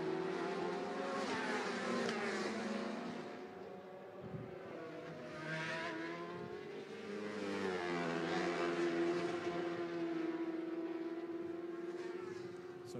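Racing motorcycles at the Macau Grand Prix roar past on the street circuit, engine notes rising and falling as they sweep by in a continuous loud stream, with crowd and track ambience beneath.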